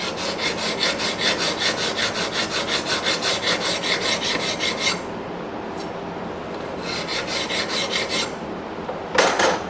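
Hand file rasping back and forth across the steel bevels of a forged Bowie knife blade, with quick rhythmic strokes for several seconds, a short pause, then another burst of filing, close and loud with no talk.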